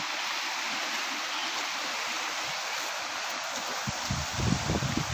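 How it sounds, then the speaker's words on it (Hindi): The Gargi river stream flows beside a cave, giving a steady broadband rush of running water throughout, with a few low rustling bumps near the end and no talking. "यहाँ सुंदर धारा बहती हुई,"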